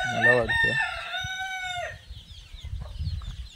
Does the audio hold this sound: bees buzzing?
no